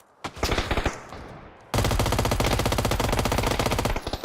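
Loud, close automatic gunfire in the video game PUBG: a short burst, a brief pause, then a sustained rapid-fire stream of shots that continues to the end.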